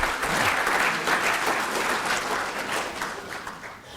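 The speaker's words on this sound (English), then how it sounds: "Thank you very much for that applause" A recovery convention audience applauding a sober speaker marking fifteen years, a dense sustained wash of clapping across the whole stretch that eases slightly near the end.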